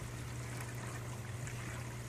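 Water bubbles and trickles steadily from an airlift pump feeding earthen garden beds driven by an 8-watt air pump, a continuous close gurgling flow over a low steady hum, with no voices.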